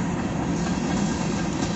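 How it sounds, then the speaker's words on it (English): A long train's cars roll by in a continuous low rumble, close and steady for the whole short stretch, with no voices. "These trains be long,"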